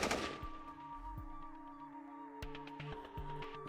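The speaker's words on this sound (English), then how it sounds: "From somewhere in the distance behind you, you can now hear this immediate burst of gunfire" A burst of distant gunfire comes as several faint, sharp cracks spread over a few seconds against a quiet outdoor background.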